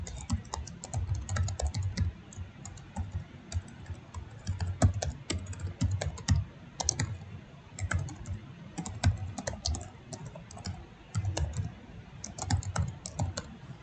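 Rapid, uneven clicking of a computer keyboard as code is typed, keystrokes coming in quick bursts with brief pauses, close and fairly quiet, no voices.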